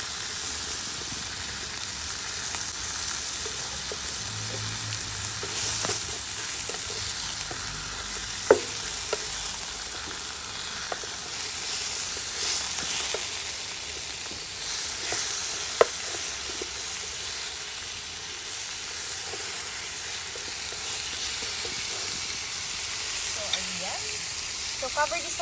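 Ground beef with mixed vegetables, seasoned with salt and pepper, sizzles steadily in a pan, a soft continuous hiss with occasional clicks and stirring, while a person talks intermittently over it.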